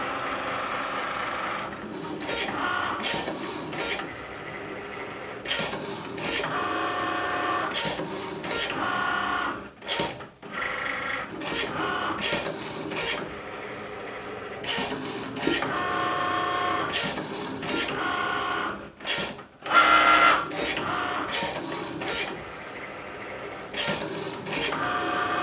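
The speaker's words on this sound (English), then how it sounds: "Okay, it's gonna start cutting." A Cricut Maker cutting machine works through a cut, whirring and buzzing steadily in repeated motor passes with brief pauses between strokes, loud and close.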